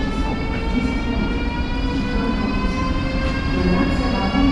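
Station ambience around a high-speed passenger train on the Samara to Saint Petersburg route, with a steady low rumble and mechanical hum filling the platform, plus a faint voice in the background.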